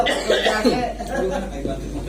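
A single harsh cough bursts out close by, with people chattering around it in a noisy, lively room.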